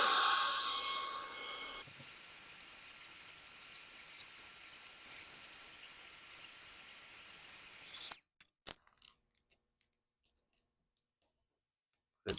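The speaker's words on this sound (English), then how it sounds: "The hairdryer that we're using is this Conair" A Conair hair dryer blows with a steady airy hiss while vinyl wrap goes onto a car, louder in the first moments, then running evenly before cutting off, leaving a few scattered clicks and handling noises.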